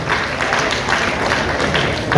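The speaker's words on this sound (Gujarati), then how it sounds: "જોરદાર તાળીનો ગડગડાટ એકવાર કરજો" A crowd at an honoring ceremony claps steadily, a dense even patter of many hands filling the space, with a faint voice underneath.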